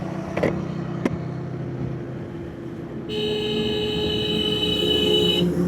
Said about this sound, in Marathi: एवढे मोठे मोठे ट्रक घेऊन असं ओव्हरटेक करायला बघतात